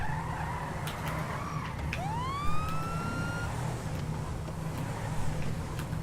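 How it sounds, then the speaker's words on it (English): A police car siren in the video game GTA Online wails once in a single rising sweep, heard at moderate distance over a constant low rumble of traffic and engine noise. "there's fucking sirens on it"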